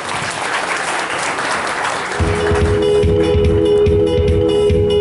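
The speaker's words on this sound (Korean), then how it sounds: "큰 박수 부탁드리겠습니다" Audience applause at a tourism association's founding anniversary event swells in after a brief lull, dense clapping from a crowd continuing loudly to the end.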